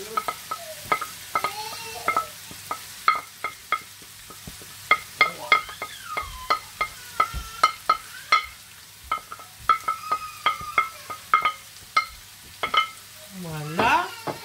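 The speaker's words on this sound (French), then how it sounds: "nous mettons nos poivrons, nos ails, nos oignons et notre piment" Peppers, garlic, onions and chili pepper going into a pan for Polish lecsó, with a low steady sizzle under a long series of sharp spoon scrapes and stirring clatters, fairly close and unhurried.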